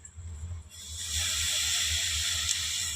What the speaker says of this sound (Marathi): आता हलवून घ्यायचं आणि पाणी ओतायचं ना